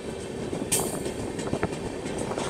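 The New Delhi–Dibrugarh Rajdhani Express runs into a small station in the evening, with steady rolling rumble, clicking wheel beats and a sharp squeal, loud and close throughout.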